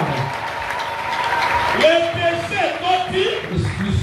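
A church congregation applauding and cheering, a broad wash of clapping that swells partway through, with voices rising over it.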